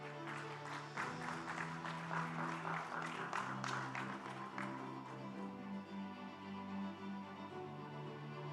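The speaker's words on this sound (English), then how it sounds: "Applause again." Audience applause breaks out at an African pension supervisors' conference, a faint patter of scattered clapping that swells and then thins over several seconds amid low room tones and murmuring.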